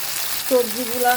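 Chopped vegetables fry in hot oil over cumin seeds, giving a steady close sizzling hiss; partway through, a thin sustained tone rises and wavers over the frying.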